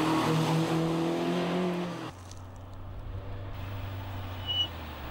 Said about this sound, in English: the advanced engineering of the Alfa's alloy twin overhead cam engine is being exploited for all